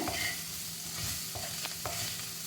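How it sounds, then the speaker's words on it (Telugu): Fried onions are stirred into a roasted chicken fry, with a spoon scraping the pan a few times over a continuous close sizzle. "ఈ టైంలో ఈ ఫ్రైడ్ ఆనియన్స్ వేసుకొని ఈ విధంగా కలుపుకోవడమే"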